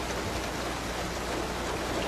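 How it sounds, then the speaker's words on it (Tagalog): Steady rain falls in a constant, even hiss of drops with no pauses or other sounds. "Pabilog po, palalaki kasi ang patak ng ulan ngayon."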